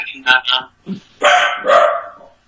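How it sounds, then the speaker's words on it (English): A dog barks a few times up close, short loud yips in quick succession followed by a longer, broader burst, with voices around it. "Dog."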